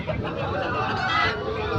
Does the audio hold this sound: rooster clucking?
yes